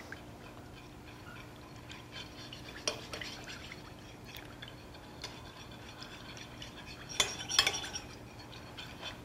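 Spoon stirring mustard and soy sauce into a chicken marinade in a bowl, quiet soft scraping with a few sharper clinks of metal against the dish, faint and close.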